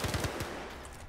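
Gunfire in the video game Star Citizen: a quick burst of four or five rapid shots rings out at moderate level in the first half second, then fades into a quiet tail.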